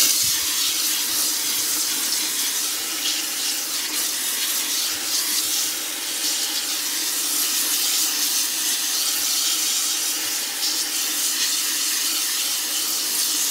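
A strong jet of water runs steadily into a bucket being filled during cleaning, a constant close hissing rush with no pauses and no talk.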